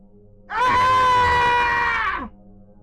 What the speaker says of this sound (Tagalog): nakarinig siya ng isang kahindik-hindik na sigaw.